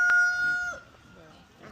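A farm chicken calls loudly and close for a brief moment, with a rooster-like tone, followed by quieter background noise.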